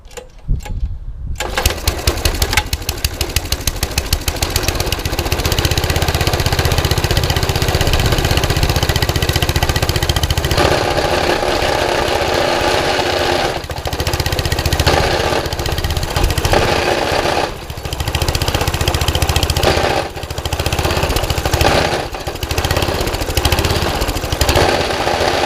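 A trash-picked petrol lawn mower starts and runs with its blades turning, the engine catching after a few pulls and then chugging loudly and steadily up close, with slight changes in revs and no talking.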